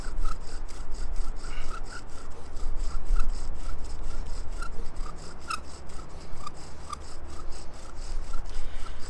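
A wooden bow drill spindle rubs steadily in its fireboard to build friction fire, a continuous close scraping with a quick back-and-forth rhythm and faint squeaks, no voices.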